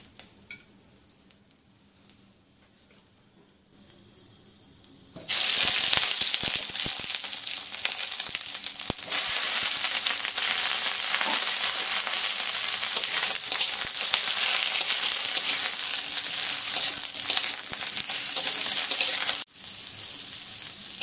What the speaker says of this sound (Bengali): আবার ওই কড়াইতে সামান্য তেল দিয়ে বেগুনগুলো ভেজে নেব।